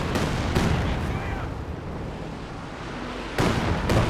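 Katyusha rocket artillery firing in the PC strategy game Company of Heroes 2, a dense roaring barrage of launches and blasts that is loudest at the start and swells again near the end.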